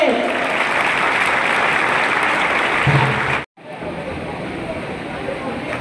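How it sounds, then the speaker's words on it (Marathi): An audience applauds students at an academy event, with loud, dense, continuous clapping from a large crowd that cuts off briefly and then carries on. "गरुड झेपचे विद्यार्थी तुमच्या टाळ्या कशा यायला पाहिजे."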